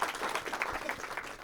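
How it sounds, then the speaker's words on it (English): Audience applause at a college lecture welcoming a guest speaker on ocean plastic pollution, a brief steady burst of many hands clapping at moderate level, heard without speech. "So a warm round of applause for Captain Charles Moore."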